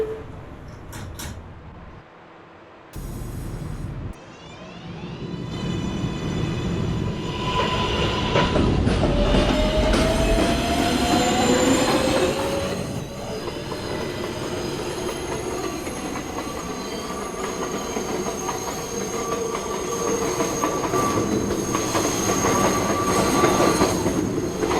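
A New York City R142A subway car on the 1 train rides along the track, with a steady loud rumble, rhythmic wheel clatter and occasional thin wheel squeals, continuous throughout.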